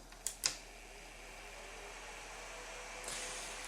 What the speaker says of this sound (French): ce bruit, ça vient des deux ventilateurs qui sont situés à ces endroits-là